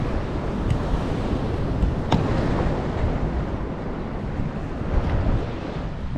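Waves wash onto a sandy beach under heavy wind buffeting the microphone, making a loud, steady broadband roar with small surges and no voices.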